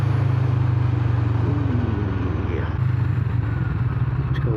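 A Kawasaki Vulcan motorcycle engine drones loudly as it revs and climbs through the gears on a country road. A rider's voice comes through faintly over the engine.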